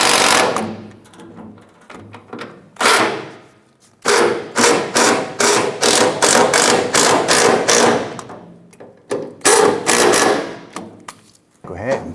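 A ratchet tightens a bolt on the fuel tank strap bracket of a 1994-2004 Chevy S10 pickup, close rapid clicking strokes in bursts with short pauses between them.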